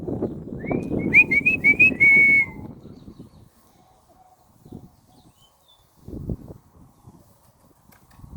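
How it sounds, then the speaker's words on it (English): A person whistles a quick series of rising, warbling notes to call six-week-old puppies to follow, loud and close for about two seconds over low rustling, then soft scattered movement and thumps. "That's the whistle we do to get them to follow us."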